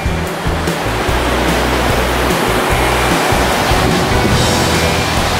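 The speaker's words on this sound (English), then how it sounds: "Ams, do you know what this creek is called?" Loud, continuous rushing water of 7 Mile Creek at Pictured Rocks National Lakeshore, a dense steady wash of flowing creek noise close by, with no voices.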